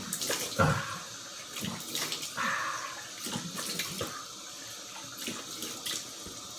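Cold water runs from a tap during shaving, with a hissing splash that surges and breaks as hands and the razor pass through the stream, close by and without talk.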